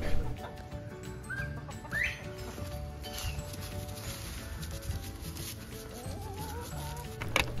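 Short chirping quail calls rise now and then over a steady rustling, scratchy background on a Texas farm, with a busy, close-up feel.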